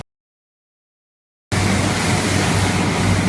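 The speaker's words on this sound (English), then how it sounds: "We are trying to take the water away from the carpet, then we are going to hang it." Steady, loud rushing drone of water being extracted from a freshly washed antique Persian rug. It starts abruptly after a silent opening and holds even to the end, with no voices.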